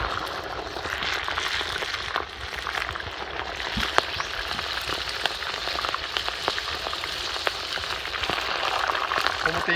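Piranha frying in plenty of oil in a large pan at a riverside, giving a steady, dense sizzle with crackling pops that runs without a break.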